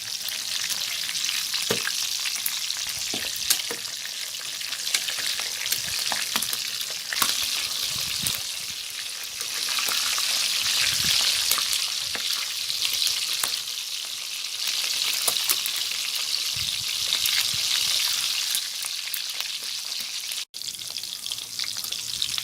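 Pork skin for crackling fries in hot oil, a dense, continuous sizzle with scattered crackles and pops running steadily throughout, close and fairly loud, with no talking.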